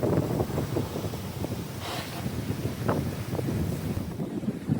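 A Cabo Rico 42 sailboat under sail on open water near Cape Caution, with strong steady wind roaring and buffeting the microphone amid the wash of waves, no voices heard.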